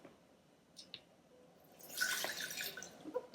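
Water poured from a container into a Vitamix blender jar set on a kitchen scale, starting with a few faint drips and then a brief, soft splashing stream that trails off; no talking.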